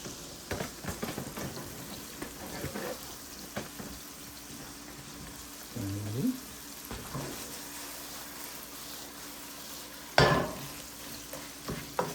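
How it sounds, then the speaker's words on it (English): Beef sizzles quietly in a pan during a beginner's bell pepper beef stir fry, with scattered scraping and stirring clicks and one sharper clatter near the end, with no talking. "I gotta go over here and stir this beef first"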